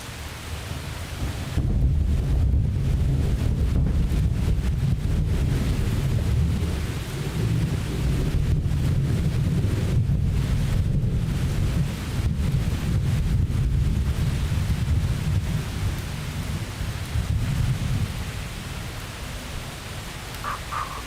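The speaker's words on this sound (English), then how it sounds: "we are watching a live video of the lightning storm moving past Portland area" Deep, sustained thunder from a passing lightning storm near Portland rolls continuously for about twenty seconds, loud and low with swelling surges, mixed with rain and some wind buffeting the microphone.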